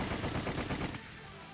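Video game gunfire sound effect from Sweet Fuse: a rapid, loud burst of automatic shots in a hallway lasting about a second, then a fading tail.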